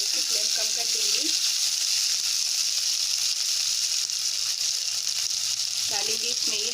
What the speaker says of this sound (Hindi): प्याज भी ब्राउन हो गई है तो अब हम इसमें डाल देंगे कटे हुए आलू।